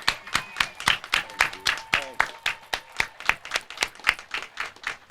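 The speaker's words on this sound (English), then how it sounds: "Let's please join me in a huge round of applause for one of Erie's favorite sons" Scattered, distinct handclaps from a small audience at a news conference in Erie, each clap sharp and separate in a loose rhythm, with a faint tone and murmur underneath.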